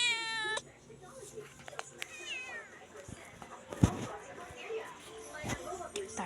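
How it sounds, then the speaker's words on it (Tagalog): A cat meows several times, rising and wavering cries up close, with clattering and quiet household noise around it. "Pusa."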